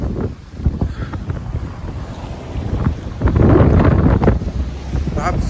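Strong gusting wind buffets the microphone on a regional TER train trip in the south of France, a steady roaring rumble that swells louder in the second half, with faint voices beneath.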